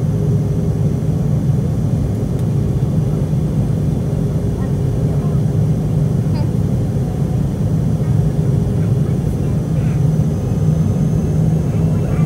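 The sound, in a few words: McDonnell-Douglas MD-83 airliner landing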